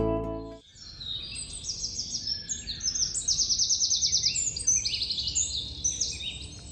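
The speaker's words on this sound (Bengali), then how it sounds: "তার সঙ্গে পাখির আওয়াজ" Birds chirp and call in a morning forest at Salboni Retreat in Jhargram, many quick bright twitters and short trills overlapping at a moderate distance, with no talking.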